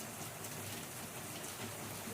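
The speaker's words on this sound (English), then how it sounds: "it's pouring really hard" Heavy Florida rain pouring down outdoors, a dense, steady hiss of falling water that holds unbroken throughout, with no talking.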